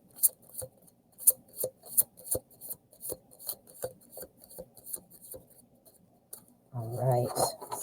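Tarot cards shuffled by hand during a reading, a run of quick rhythmic riffling slaps close to the mic, ending in a louder rustling burst.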